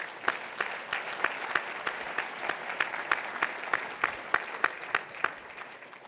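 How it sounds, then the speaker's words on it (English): An audience applauds steadily, dense clapping with a few sharp individual claps standing out, sustained for several seconds before starting to taper. "I think that's worth another round of applause."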